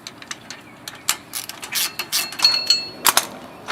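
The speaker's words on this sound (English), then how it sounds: "So we take all the bolts off," A ratchet wrench takes the 14 mm hub bolts off a car during a wheel bearing replacement, clicking in short, rapid bursts up close, with metallic ticks and a brief squeak between strokes.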